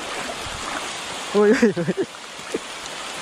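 Heavy rain pours steadily during an ultralight casting session for sebarau, a dense, even hiss filling the whole stretch while a man calls out briefly in the middle.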